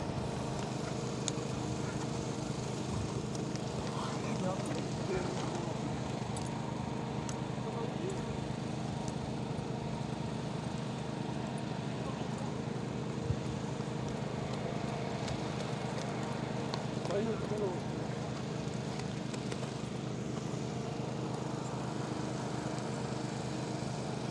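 Horses' hooves beat during a CRPF quad riding drill at an equestrian academy in Nayla, Jaipur: a continuous, busy clatter over a constant broadband outdoor rumble, with a voice speaking over a loudspeaker throughout.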